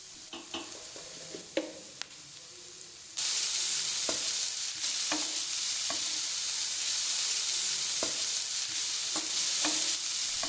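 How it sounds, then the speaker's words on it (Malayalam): Chicken wrap filling stirred in a pan with three tablespoons of tomato sauce, a steady loud sizzle rising after a few seconds, broken by repeated spoon scrapes and taps against the pan, with no talk. "സോസ് കൂടി ചേർത്തതിന് ശേഷം ഒന്നുകൂടെ നല്ലപോലെ ഒന്ന് മിക്സ് ചെയ്തെടുക്കാം"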